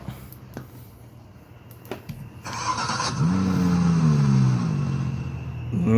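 A car engine cranks over and catches, then settles into a loud, steady running idle with a slight rising rev, close to the microphone after a few quiet clicks.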